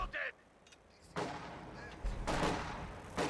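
Gunfire sounds in a video game as grenadiers come under fire, with a few booming shots and bursts at moderate volume and quiet gaps between them.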